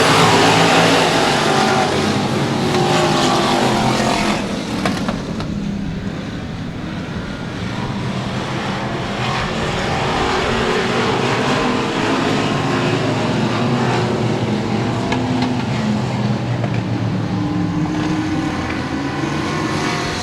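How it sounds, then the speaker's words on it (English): Race cars thunder around the Cotton Bowl Speedway oval on the opening lap, a loud, continuous pack of engines that swells near the start, eases slightly and then holds steady for twenty seconds. "AJ Dancer going to lead them lap number 1."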